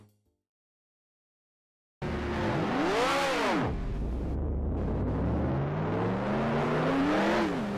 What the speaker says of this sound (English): you are missing the noise of the engines here, but everything should be alright now